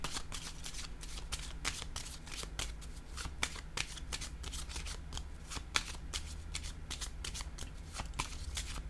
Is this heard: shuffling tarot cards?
yes